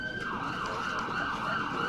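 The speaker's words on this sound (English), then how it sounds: "Are those sirens?" Emergency vehicle sirens wail continuously at a steady, fairly loud level, with the rising and falling tone carrying over a background rumble of traffic.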